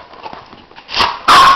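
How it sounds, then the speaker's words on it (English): A dog barks loudly twice close by, with a second sharper bark near the end, after quieter rustling and faint background noise. "Another crazy dog."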